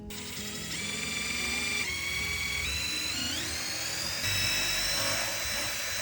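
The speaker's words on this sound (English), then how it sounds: "put the holes in this thing so that we can drill into the wall nicely" A power drill whines continuously, its pitch stepping upward as it bores, loud and close with no talking.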